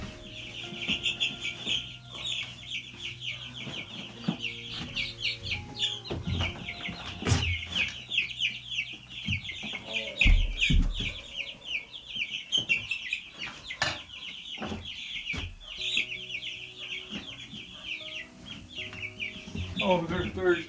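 Chickens cluck and chirp continuously at close range, with occasional louder squawks and some handling noises mixed in.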